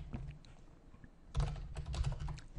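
A password is typed on a computer keyboard at close range, light key taps at first followed by a denser burst of quicker, firmer clicks.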